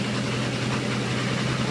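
Diesel engine of a 1980 International Scout II idles at about 1,000 RPM while warming up and puffing smoke, a loud, steady, close low rumble that continues unbroken throughout.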